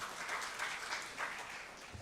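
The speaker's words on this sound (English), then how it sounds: "So please give a round of applause to him." A seated audience at a coding technology presentation applauds steadily, a dense continuous wash of clapping at moderate distance.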